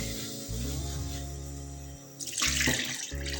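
Water runs steadily from a tap into a pan holding seasoned chicken, with a hollow, filling tone, briefly pausing and resuming near the end.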